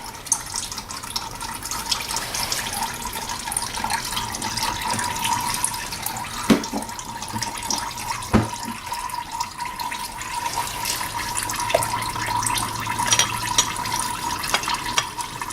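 Engine oil draining from a petrol Volvo XC into an oil pan makes a steady, continuous liquid pour with a few sharp clicks and knocks, heard close and with no one talking.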